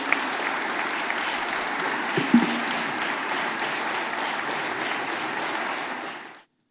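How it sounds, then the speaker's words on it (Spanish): An audience in León applauds an official city chronicler, a steady wash of many hands clapping for about six seconds before cutting off. "Damos un aplauso a Masi y escuchamos."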